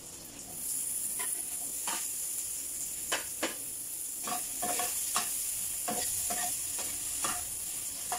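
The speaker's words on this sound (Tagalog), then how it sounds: "Ilalit ko yung hotdog para maluto." Hotdogs and onions fry in a pan with a steady close sizzle, while repeated stirring and scraping strokes cut through it over about eight seconds.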